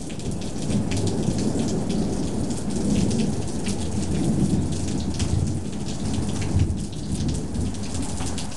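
A 2010 summer thunderstorm pours heavy rain in a steady close roar, with low thunder rumbling beneath it throughout and no voices.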